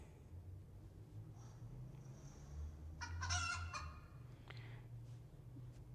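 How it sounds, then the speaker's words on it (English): Chicken clucking sound played by a Sphero robot, a brief burst of squawky fowl-like clucks around the middle, faint over a low background hum, no talk. "played the sound of the chicken"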